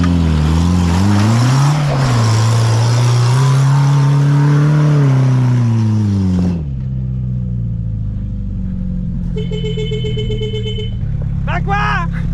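An ARO 4x4 off-road vehicle's engine revs hard and climbs in pitch while reversing, loud and close, then settles back to a lower idle, with people talking over it.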